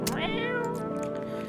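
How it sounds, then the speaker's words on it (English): A cat in the video game No, I'm Not A Human lets out a single clear, rising-then-falling meow, close and alone. "Feed the cat canned food."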